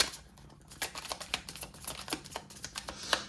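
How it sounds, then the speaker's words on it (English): Small, thin tarot cards being shuffled by hand, a close, quiet run of rapid riffling flicks and soft slaps in uneven bursts, with no talk. "they're a little bit harder to shuffle because they're thinner"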